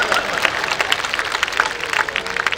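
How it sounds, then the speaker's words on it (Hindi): At a kavi sammelan comedy poetry show, the audience breaks into bright, dense clapping that rises and falls for a couple of seconds with a faint crowd murmur underneath. "ताली बजाओ"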